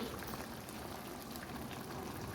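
Boiled mutton stock is poured from a pot in a home kitchen, a continuous close liquid rush and bubbling wash that stays steady and fairly soft throughout.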